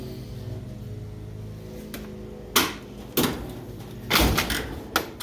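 A drawer on a Snap-On 68-inch Epiq steel toolbox slides open, giving a series of sharp metallic clunks and rattles that stand out over a low, quiet background hum.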